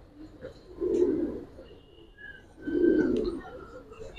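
Giribaz pigeons in a loft give two low, throaty coos a couple of seconds apart, close and fairly soft, over quiet room noise with faint chirps.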